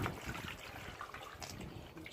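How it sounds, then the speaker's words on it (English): Water slowly tipped out of a gold prospecting pan, a faint close trickle and slosh with soft dribbling, quiet and continuous. "slowly tip the water out."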